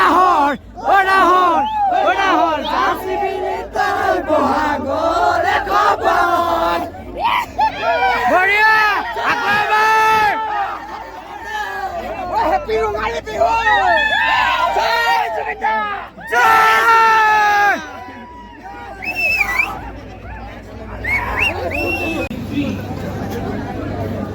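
A gathering crowd in Bengaluru shouts and whoops together in loud, overlapping bursts, the roar dipping briefly and then swelling again, close and dense throughout with voices layered on top of each other.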